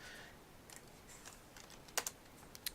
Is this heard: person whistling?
no